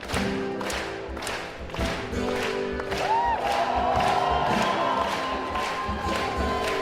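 Concert crowd at Hammersmith cheering and clapping in rhythmic bursts for a performer on acoustic guitar, with sustained whoops and shouts rising in the middle of the roar.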